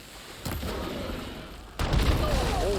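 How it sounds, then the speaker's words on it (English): Two loud, heavy water cannon blasts burst out in the video game Horizon Forbidden West, about a second apart, each followed by a rumbling roar. "Oh damn, water cannons?"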